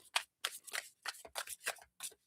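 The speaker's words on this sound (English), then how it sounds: "Shuffle these up." A deck of tarot cards is shuffled by hand in a quick run of close, crisp riffling bursts with short pauses between them, and no voices.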